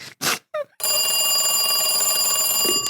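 A radio-drama sound effect of a telephone bell ringing: after a few short sounds, a continuous loud electric ring sustains for about two seconds, close and dominant.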